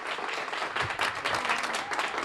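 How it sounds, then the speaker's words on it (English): An audience applauds at the UC Davis Children's Hospital fundraiser mediathon: a dense, continuous patter of many hands clapping at once, moderately loud, held steady for a couple of seconds. "I love the fact that they're applauding"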